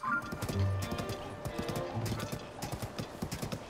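Horses clip-clop across open ground in Zelda: Tears of the Kingdom, a steady patter of hoof beats with game music and ambience under it, the hooves fairly close and moderately loud.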